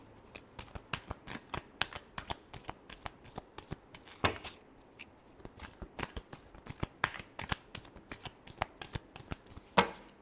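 A deck of tarot cards is shuffled repeatedly by hand, producing rapid, crisp riffling bursts in an irregular rhythm, close and fairly quiet, with no talking.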